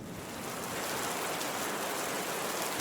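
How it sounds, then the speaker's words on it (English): A heavy downpour pours steadily as a sound effect, a dense, loud, continuous hiss of rain that swells slightly and holds with no talking. "Rain poured from the sky."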